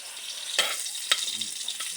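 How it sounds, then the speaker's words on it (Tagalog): Onions fry in a pan for ginisang tinapa, a bright continuous sizzle with two distinct spatula scrapes as they are stirred. Faint low background sounds sit underneath. "lutuin natin maayos ang ating bombay mga kaparada"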